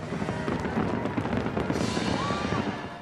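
A fireworks display bursts over the National Mall, a steady crackle of pops and distant booms running throughout with a whistling rocket rising midway.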